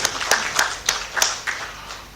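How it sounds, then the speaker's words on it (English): A few scattered hand claps from a small academic conference audience at a university in Chiang Mai, sparse and uneven, about half a dozen distinct claps fading over two seconds. "We can give a round of applause."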